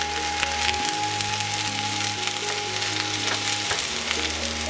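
Egg frying in a skillet alongside rice, a steady crackling sizzle close up with occasional scraping stirs and a faint low hum underneath, no one talking.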